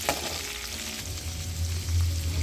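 Ingredients sizzle in a pan over a medium flame while capsicum rice (chitranna) is prepared, a close, steady crackling hiss that swells slightly louder toward the end.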